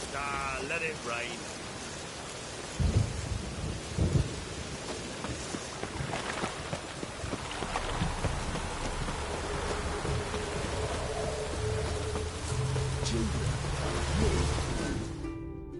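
Steady rain falls throughout with a low rumble of thunder in The Witcher 3, while voices talk intermittently over the downpour.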